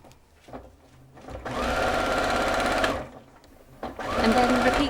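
A domestic sewing machine stitches the armhole seam of a child's dress in two bursts, a close whirring buzz with a short pause between runs, under brief talk.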